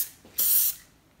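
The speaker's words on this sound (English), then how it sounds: "We have here our spray adhesive, and I want to show you just on how little you need to put on." A single short burst of spray adhesive from an aerosol can, misted onto paper, loud and close, about a third of a second long with faint quieter puffs around it and no talking.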